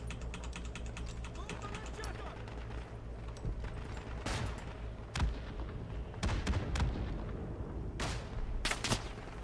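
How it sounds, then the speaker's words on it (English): Bomb blasts and rifle fire in the Isonzo World War 1 shooter on the Italian Front, with a steady rumbling battle bed broken by several sharp loud cracks and bursts, clustered near the end. "Bombs make it a little hard to see"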